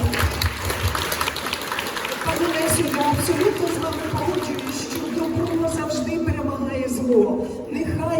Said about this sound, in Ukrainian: всіх вітаю і всіх і всі аплодуємо, пані Лесі